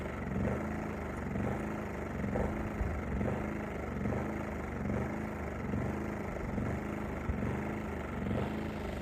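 An engine idles roughly in freezing cold before refuelling, a steady uneven mid-low churn with faint periodic pulses throughout, fairly quiet and without speech.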